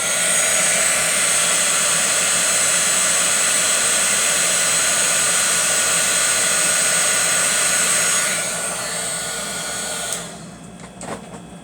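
Heat tool blowing hot air to melt embossing powder on cardstock, a loud, steady close-up fan roar that drops off near the end as it switches off and spins down.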